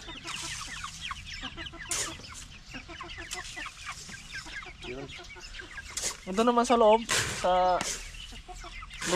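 Backyard chickens cluck steadily throughout, with a couple of louder squawking calls near the end, while a person talks briefly amid the flock.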